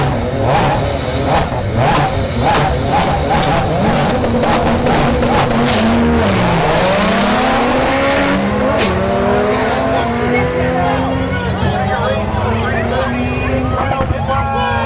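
Turbocharged and supercharged no-prep drag race cars launch side by side at Orlando Speed World, loud revving engines climbing and shifting in pitch with bursts of tire squeal, continuous and close for the whole run.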